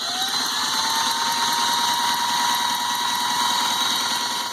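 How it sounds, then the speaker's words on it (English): A Yanmar 2GM20F marine diesel on a sailboat is turned over with its decompression levers off, giving a steady, close whirring crank with a faint rhythmic pulse. The sound runs continuously with no break or speech. "we're going to have Lisa go up and turn the engine over while I have the decompression levers off"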